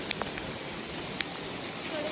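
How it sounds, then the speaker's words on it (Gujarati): Large hailstones fall in a storm amid rain, a continuous soft hiss broken by a couple of sharp, distinct impacts close by. "બધા મોટા ને મોટા કરા પડે છે"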